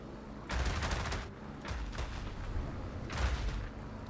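Giant flak cannons fire from a plane in the Trailmakers video game, with several heavy bursts of booming fire in quick clusters over a low background rumble.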